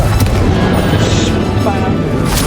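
Blasts from the Confringo spell in the video game Hogwarts Legacy during a boss fight: loud, booming explosive impacts over a dense, rumbling battle background, with a voice speaking briefly.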